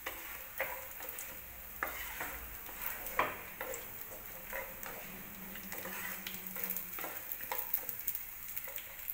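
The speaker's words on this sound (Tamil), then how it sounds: "நல்லா செவக்க வறுத்துருங்க முந்திரியும் பாதாமும் நெய்ல நல்லா செவந்து வரணும்" Cashews and almonds fry in ghee with a soft, continuous sizzle, while a utensil stirs them, giving light, irregular scrapes and taps close by.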